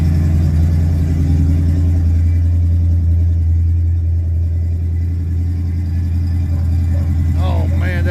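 A 1967 pickup truck's engine, without a proper exhaust system, runs loud and steady just after a cold start, a deep continuous rumble close by, with a brief voice near the end.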